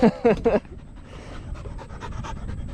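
Brief voice at the start, then a dog's rapid, rhythmic panting close to the microphone.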